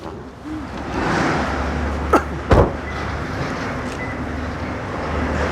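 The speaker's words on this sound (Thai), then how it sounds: "ไปฟังเสียงเครื่องยนต์กันนิดหนึ่งว่าเป็นยังไงนะครับ" A Toyota Sienta's engine idles with a steady low rumble throughout, with a couple of brief mechanical clunks near the middle, like a door or latch.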